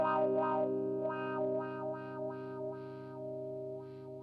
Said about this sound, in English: you'll see it sounds basically like a wah